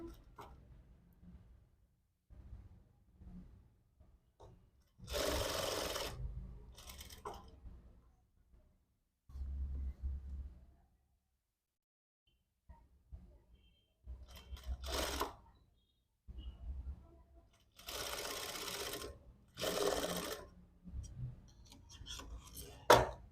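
Sewing machine stitching the seam of a readymade nightie, several short bursts of rapid whirring separated by pauses, close and moderately loud, with quiet handling noises between runs.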